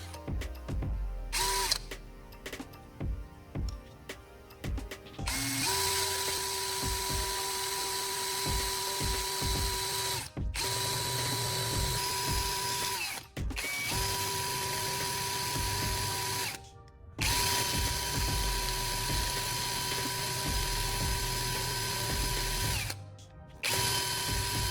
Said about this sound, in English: I'll start right away by grinding the threaded tip of the spark plug to remove some of the rust